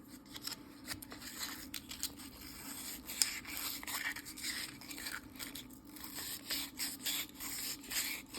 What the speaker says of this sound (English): All right, got a fresh piece of sandpaper.